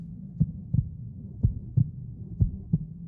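Heartbeat sound effect in the video game The Witcher 2: Assassins of Kings, a low, muffled double thump repeating about three times in a steady rhythm, with no talking.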